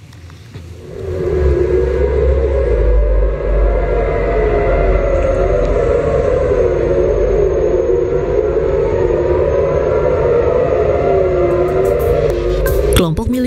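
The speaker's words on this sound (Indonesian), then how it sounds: "Suara sirene pun bergaung di penjuru kota Tel Aviv Jumat malam waktu setempat." Civil defense air raid sirens sound across Tel Aviv, a loud rising-and-falling wail sustained for over ten seconds above a low rumbling background, with no voices.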